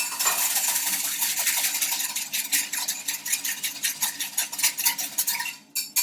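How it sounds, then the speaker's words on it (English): A wire whisk beats a risen yeast mixture in a bowl, making fast, loud, continuous rhythmic clicks and splashy strokes close up that stop briefly near the end. "I'm just going to whisk it with a whisk first to make sure that it's all nice and frothy"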